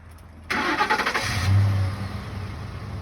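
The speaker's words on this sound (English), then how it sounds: "stick the key back in the ignition and start the engine" Car engine started with an ignition key: an abrupt starter crank with rhythmic chugging catches into a loud rev, then settles into a steady, moderately loud idle, nearby and without speech.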